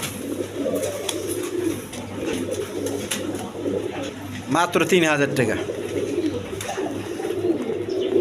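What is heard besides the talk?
pigeons cooing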